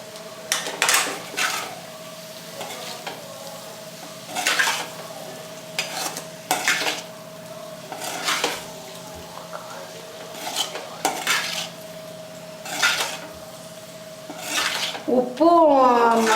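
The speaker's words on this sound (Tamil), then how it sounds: "லைட்டாக சிம்மில் வச்சு கிண்டுங்க." A spoon stirs potato roast with green chilies and chopped coriander in a pan over low heat, producing a steady series of scraping strokes against the metal at a slow, regular pace.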